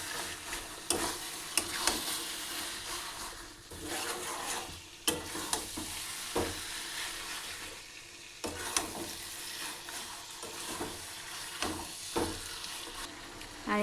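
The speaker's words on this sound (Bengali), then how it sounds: "ভালো করে কষিয়ে নেব মাংসটা দিয়ে।" Mutton for a Bengali mutton curry sizzles in a pan while being stirred, a continuous frying hiss broken by repeated scraping strokes and clatters of the spoon, close and moderately loud, with no talking.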